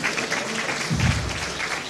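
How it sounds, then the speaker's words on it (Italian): Audience applause at a mayoral candidates' debate in Bussolengo, a steady, moderately loud spatter of many hands clapping for the full short burst. "facciamogli un applauso"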